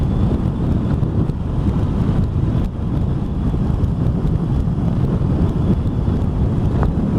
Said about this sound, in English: Bit windy out here